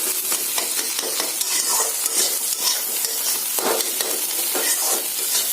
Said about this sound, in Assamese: ভাজি ভাজি যেতিয়ালৈকে কালাৰটো ৰঙা নিচিনা হৈ নাযায়, তেতিয়ালৈকে আপোনালোকে ভাজি থাকিব